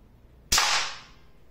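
A Crosman MK-177 Scar 4.5 mm pump air rifle fires one sharp, loud crack at close range, followed by a short fading tail.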